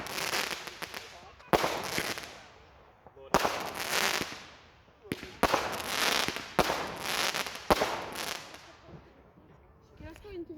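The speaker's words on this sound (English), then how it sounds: "More fireworks." Fireworks burst in a series of about six loud booms, each trailing off in a crackling, sizzling decay, with short quieter gaps between them.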